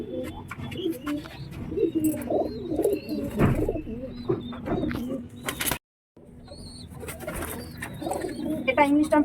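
An English Trumpeter pigeon coos in soft, rolling bursts up close, mixed with other bird calls and chirps, while a person talks intermittently over the sounds.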